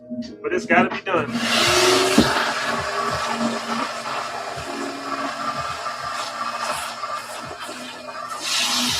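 Vacuum cleaner running over a pair of Jordan 2 Low Retro sneakers during cleaning, a loud steady whooshing roar with knocks and bumps from the nozzle, starting after a few brief clatters.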